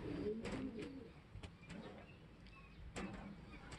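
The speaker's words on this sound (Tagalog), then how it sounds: "Ito yung ibon mo, Tol Marlon" Racing pigeons in a loft give soft, low coos and rustling calls, with scattered sharp ticks and shuffles throughout and a steady ambient background.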